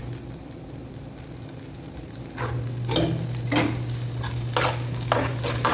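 Ground almond and raisin paste roasts in a pan with a steady low sizzle, joined by a series of stirring scrapes and clacks that grow a bit louder after the first couple of seconds.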